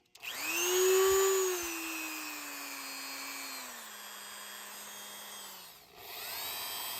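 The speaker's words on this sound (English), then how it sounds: "I'm going to turn the Dremel on full and then turn it down with the speed control" A Dremel rotary tool on a motor speed controller spins up to a loud high whine, then its pitch drops steadily as the speed is turned down, and it cuts off briefly before running again.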